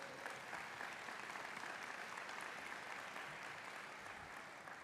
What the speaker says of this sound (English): If you could stand up for everyone to give you a brief applause.